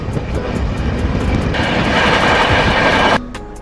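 The Shane Punjab Express rushes past close by behind a diesel locomotive in a loud, sustained roar of rolling wagons. The noise swells midway and then drops off abruptly near the end.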